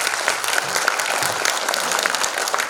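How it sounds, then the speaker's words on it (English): An audience claps loudly and steadily for Dr. Michael Hare at a coaching event, a dense close wash of applause with no voices over it. "Give him the biggest round of applause."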